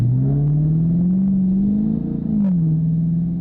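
A Dodge Charger fitted with a Pedal Commander, running in Sport Plus mode, accelerates on light throttle with a steady low engine drone that rises and then eases back, heard from inside the car.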